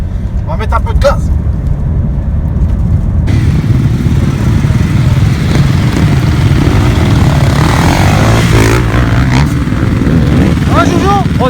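Four-stroke enduro motorcycle engine held at a loud, close, steady rev for several seconds, its droning roar continuous, with people talking over it.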